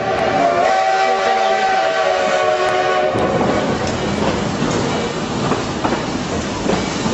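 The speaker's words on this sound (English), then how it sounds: "We're just coming over some switch track." A train rolls over switch track as its horn sounds for a few seconds, then gives way to loud rattling and clattering wheels nearby.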